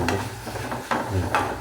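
Onions frying in a pan as a spoon stirs them, a soft sizzle with three or four brief scraping strokes at an uneven rhythm, close and fairly quiet, with no talking.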